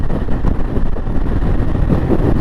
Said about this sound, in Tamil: என்ன தூக்கிட்டு போயிடும்னு நினைக்கிறேன், அந்த அளவுக்கு காற்றடிக்குது.